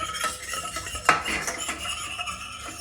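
A utensil stirs flour into a roux in a pan while making coq au vin. Close scraping and clinking of metal against the pan repeats steadily, with a faint sizzle beneath.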